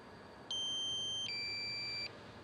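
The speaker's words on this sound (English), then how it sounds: "when the battery is low, it beeps like that the whole time, and it flashes red" Two electronic low-battery warning beeps from a DJI Mavic Pro drone, each a sustained high tone lasting under a second, the second slightly lower in pitch, over quiet background hiss.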